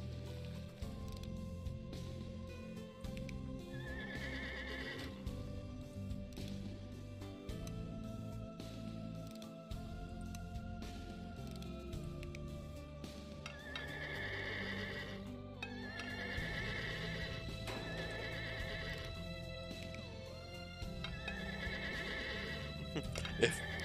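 A horse neighs and its hooves clip-clop in the video game Scribblenauts Unlimited, with whinnies recurring over a steady layer of game music.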